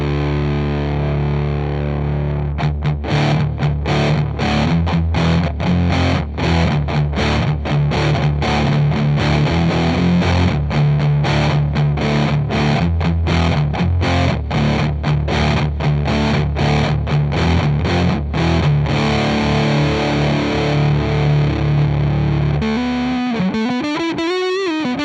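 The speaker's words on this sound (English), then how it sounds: "Classic Muff sound." Electric guitar played through a Muff fuzz distortion pedal, a thick, saturated fuzz tone with rhythmic strummed chords for about twenty seconds before ringing out, loud and up close with no talking.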